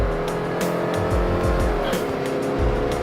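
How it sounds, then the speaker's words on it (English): A 2018 Subaru Crosstrek's engine roars and strains at high revs climbing a hill, loud and close, its pitch sweeping up and down repeatedly as it is pushed hard. "I hate when I wind the engine out like that"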